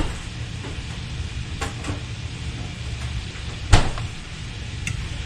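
Shrimp fry in a pan of unsalted Kerrygold Irish butter, giving a soft, steady sizzle with a few faint clinks and one brief sharp knock.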